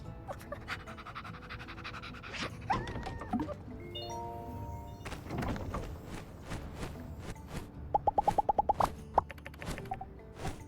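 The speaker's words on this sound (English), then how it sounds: "Puppy." A puppy in My Time At Sandrock pants softly amid game sounds, with clip-clopping thunks and a quick run of tapping footsteps near the end, no voices present.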